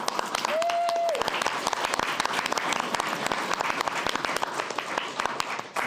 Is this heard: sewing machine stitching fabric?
no